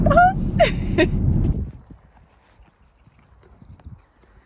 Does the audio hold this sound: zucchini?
no